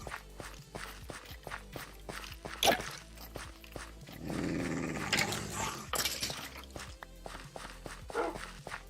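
Dogs in a video game growl and snarl among rapid paw footsteps, close and fairly loud, with a longer burst of rough growling midway and no talk over it.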